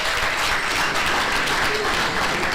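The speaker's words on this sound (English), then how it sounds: "Shall we give a standing ovation, please?" Audience giving a standing ovation at an academic valedictory programme, a steady wash of many hands clapping at even loudness throughout, dense and close.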